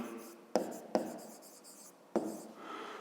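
Pen strokes scratch across paper in short, close bursts with a few taps of the pen against the page, heard quietly alongside someone speaking.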